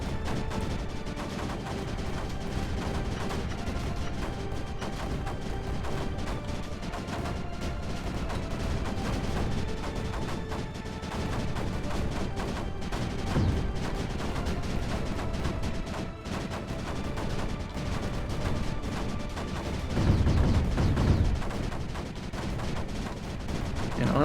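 Mortars in Creeper World 4 fire in a dense, continuous barrage of thumping shots over a constant game soundscape, with a heavier burst of impacts near the end.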